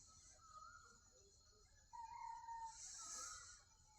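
Village roosters crow at dawn, with a long, clear crow rising in the middle over a quiet rural morning background and birdsong from farther away.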